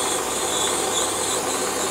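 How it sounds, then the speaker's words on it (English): A 6mm drill bores a 50mm deep hole for a fire piston, a steady whirring and grinding hum lasting the whole stretch without talk. "we're going to drill a hole, 6mm diameter, 50mm deep"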